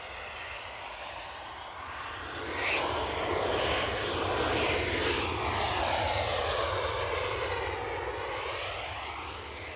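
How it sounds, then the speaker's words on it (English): A Ryanair jet from Belfast comes in to land at Edinburgh Airport, its engine roar swelling steadily as it passes fairly close, then slowly easing off. "It's a Ryanair and it's coming from Belfast."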